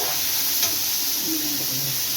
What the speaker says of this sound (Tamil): வெங்காயம் தக்காளி நல்லா வதக்கிட்டு வதங்கிட்டே இருக்கட்டும்